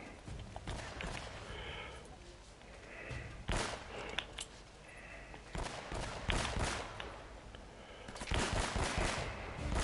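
Rapid bursts of gunfire during a firefight in the video game Uncharted: Drake's Fortune, with repeated loud volleys and sharp shots spread across the clip over a busy background of game effects.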